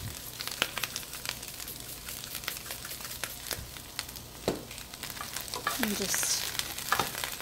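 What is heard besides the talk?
vegetables frying in a pan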